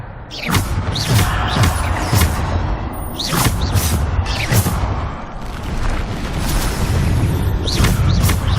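Repeated Bombarda spell explosions in the Hogwarts Legacy video game: loud, booming blasts arrive every second or so over a constant rumbling, mechanical background of combat.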